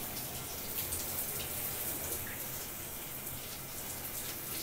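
Shower water spattering into a bathtub, a soft continuous hiss and patter at low level, with no speech.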